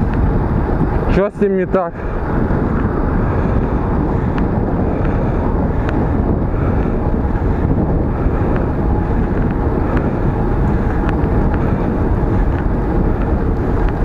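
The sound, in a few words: wind blowing on a clip-on microphone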